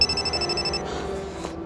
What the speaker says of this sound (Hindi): फिर फोन कर रहा है।